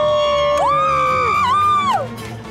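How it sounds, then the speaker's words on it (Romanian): Crowd cheering and whooping with shrill yells rising over a steady murmur, heard during a reality race show, loud and sustained before fading near the end. "Am auzit de undeva din depărtare niște aplauze, niște țipete de bucurie."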